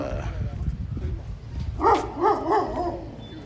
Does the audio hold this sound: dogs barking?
yes